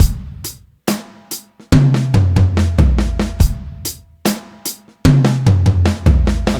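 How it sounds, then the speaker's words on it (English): A drum kit plays a paradiddle-based fill, sharp cymbal or hi-hat hits with quiet snare ghost notes between them, and tom strikes descending in pitch, repeated twice. "the left hand is going to stay on the snare drum playing ghost notes"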